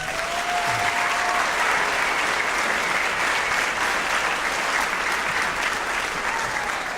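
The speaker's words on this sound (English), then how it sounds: "please give them a round of applause" Audience applause at a school spring orchestra concert, dense and sustained for about seven seconds, heard at moderate level from across a large hall with no break.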